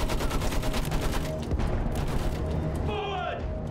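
A machine gun fires in a rapid fusillade amid the battle noise of the Battlefield 1 Storm of Steel intro mission. The bursts are dense and continuous with booming mechanical clatter, and a player speaks briefly over the gunfire.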